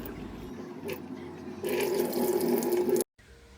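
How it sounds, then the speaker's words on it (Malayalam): Running tap water splashes steadily over pomfret fish being washed in a sink, swelling louder partway through, then cutting off abruptly near the end, leaving a quieter background. "നമുക്ക് മീൻ നല്ലോണം കഴുകി വൃത്തിയാക്കി എടുക്കാം"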